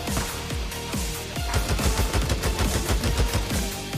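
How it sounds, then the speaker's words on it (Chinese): Automatic rifle fire in Days Gone, loud rapid bursts of shots in a steady rhythm, with brief pauses between strings of rounds. "你用自动步枪，别怪我"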